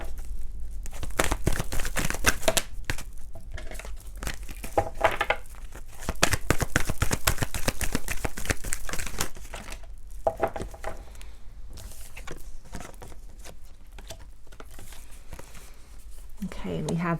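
Oracle cards being handled and shuffled during a card reading, giving close, busy papery flicks, riffles and crinkles in bursts of several seconds, with pauses between and a voice talking intermittently.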